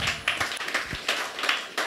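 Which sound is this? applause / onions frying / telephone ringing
applause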